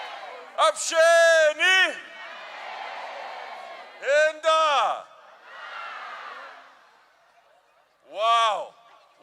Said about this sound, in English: What an amazing crowd!